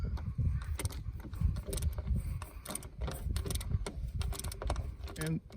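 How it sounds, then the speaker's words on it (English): A small 3/8 socket ratchet loosens a guard bolt on a John Deere D100 series mower deck, giving a run of quick, close mechanical clicks and ticks over low handling noise. "Now to do that, we'll use a small 3/8 socket and ratchet."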